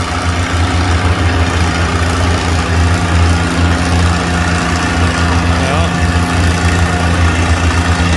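A heavy tractor engine at a county fair tractor pull drones steadily at a low rumbling pitch, continuous and fairly loud throughout, straining under load.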